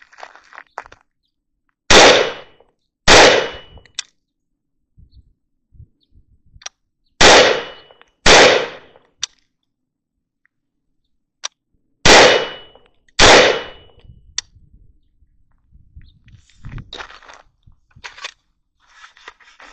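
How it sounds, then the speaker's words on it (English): Six sharp handgun shots ring out at a shooting range aimed at a small target from 10 yards, arriving in uneven pairs separated by quiet pauses, loud and close with brief echoing tails. "And that's our first 6 rounds down range."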